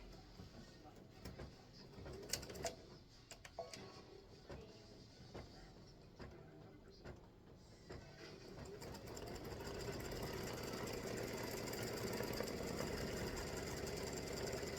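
An embroidery machine stitching cream thread for a baseball tic-tac-toe game set, a rapid mechanical chatter that starts with scattered clicks and taps, then settles into a steady, louder whirring hum, close by.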